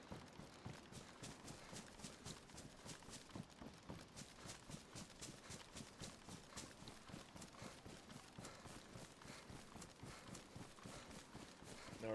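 Horse hooves clip-clop at a steady running rhythm in the survival game DayZ, a continuous stream of close, even hoofbeats lasting throughout.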